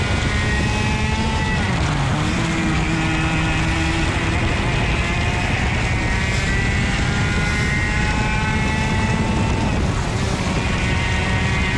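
Racing kart engines at a Motorplex kart race, a loud continuous buzzing drone with shifting high whines as karts run close together, with faint voices underneath.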